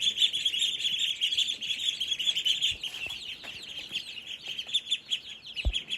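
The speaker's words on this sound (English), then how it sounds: "I can hear the baby ducklings." Baby ducklings on a homestead peep in a steady, dense chorus of high chirps, close and continuous, with a few soft knocks in the background and no talking.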